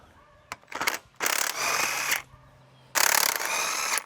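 An impact wrench removing housing bolts during an engine swap: three loud, close rattling bursts of hammering, each lasting about a second, with a brief click before and quiet pauses between.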